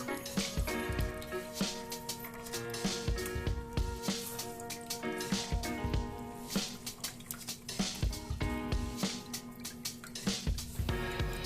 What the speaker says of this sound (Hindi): अच्छे से निचोड़ के सारा पानी निकाल देना है।